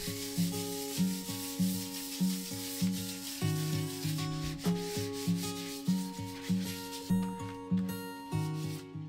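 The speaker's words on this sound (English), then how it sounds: "I'm going to be sanding the cupboards today" Wooden cupboards in a 1940s laundry are sanded by hand in steady back-and-forth strokes, about two per second, close up, with music playing underneath and no voices.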